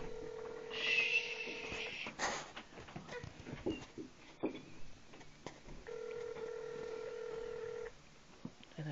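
Telephone dialing tones come in two clear bursts of steady, layered beeps, one early and one near the end, with quieter rustling and handling noise between them.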